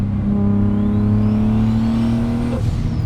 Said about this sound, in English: this is probably one of the loudest cars in terms of hearing the turbo itself actually spool up